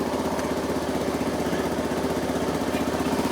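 A Yamaha BW200 big-wheel motorcycle engine idles steadily and nearby at a fairly low level, its fast even putter holding constant throughout with no voices.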